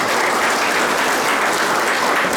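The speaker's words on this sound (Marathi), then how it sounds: "सर्वांनी जोरदार टाळ्या त्यांच्यासाठी." A college audience at a career guidance camp claps for students, a loud, dense, continuous burst of applause with no voices over it.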